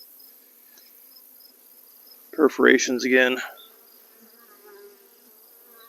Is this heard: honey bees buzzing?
yes